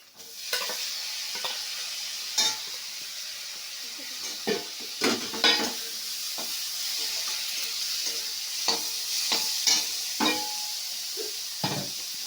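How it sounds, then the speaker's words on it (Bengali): Onion and boiled vegetables hiss in a frying pan for Maggi noodles, with steady sizzling broken by repeated scraping and clacking stirs of a spatula, close and without speech. "পেঁয়াজটা অর্ধেক ভাজা হয়ে গেছে, এবার সেদ্ধ করা সবজিগুলো দিয়ে দিচ্ছি।"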